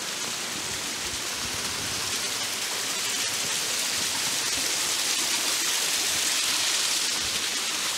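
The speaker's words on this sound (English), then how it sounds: "we got a little stream." A small stream flows near a dam, a steady broadband rush of water that stays even and fairly close, with no voices over it.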